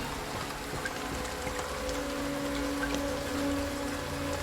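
Steady rain falls in Lorelai, a continuous even patter of drops with a faint low tonal hum underneath, no voices.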